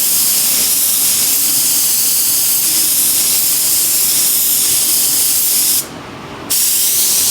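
A spray can dusts a light dry coat onto a part during a Mitsubishi Evo 8 rebuild: a loud, steady hiss held for several seconds, broken by one brief pause before the spray resumes.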